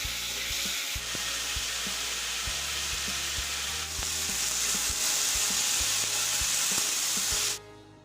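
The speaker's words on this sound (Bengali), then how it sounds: "আলুর তরকারি একটু ভাজা ভাজা করবো" Cauliflower and potato curry frying in a pan, a steady close sizzle with occasional stirring scrapes and clicks running throughout before cutting off abruptly near the end.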